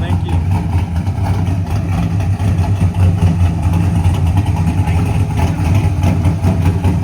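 A Chevy Silverado's iron LS3 V8 with Flowmaster Outlaw side-exit exhaust idles loud and close, a steady deep rumble throughout.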